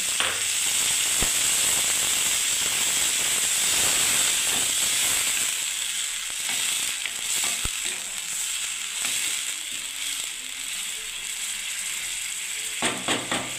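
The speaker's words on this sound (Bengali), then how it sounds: "এবারে কিছুটা আমি এর মধ্যে জল ঢেলে দিচ্ছি বন্ধুরা দেখুন" Water goes into a hot pan of frying yogurt and eggplant for doi begun, a loud steaming hiss and sizzle that eases slightly into bubbling with a few clinks.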